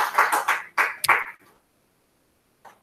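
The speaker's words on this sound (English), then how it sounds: "give yourselves another round of applause" A class of bootcamp students gives a short round of applause, a brief burst of clapping that fades within about a second and a half, followed by quiet and a faint final clap.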